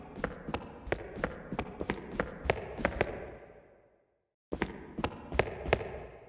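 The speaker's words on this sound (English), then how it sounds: "Footsteps only." Isolated footstep effects from the RPG Arcan Chronicles: crisp, close steps tap out a quick, steady rhythm, fade to a brief silence, then start again at the same pace.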